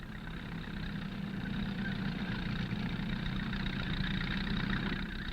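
Tractor hauling two wire haulage ropes with an earth wire slung below for a half-million-volt DC transmission line, a steady mid-to-low engine drone held at even loudness throughout.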